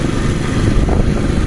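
Motorcycle ridden along dirt roads through forest near Las Breñas, Chaco, Argentina, its engine a steady close drone with rough broadband rumble from wind and the unpaved track, running without a break.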